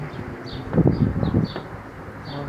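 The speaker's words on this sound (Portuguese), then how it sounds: "Abelha." A bee, near a passion fruit plant, hums in short passes outdoors amid light rustling and a few soft bumps, fairly close.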